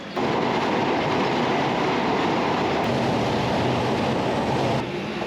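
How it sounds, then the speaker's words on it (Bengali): The Sundarban Express crosses the Padma Bridge, heard from inside as a loud, steady rumble and roar of wheels on rails with faint rhythmic clatter, continuous and close throughout. "প্রথমবারের মতো পদ্মা সেতুর উপর দিয়ে যাচ্ছি কুষ্টিয়ায়"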